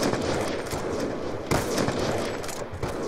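Rapid gunfire in the video game Black Ops 2, a dense, loud stream of overlapping shots and bursts that continues throughout, with a sharper burst partway through.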